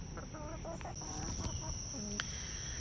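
Chickens cluck and call in a backyard coop run, a few short rhythmic clucks and one higher squawk, faint and near against a steady high background hum.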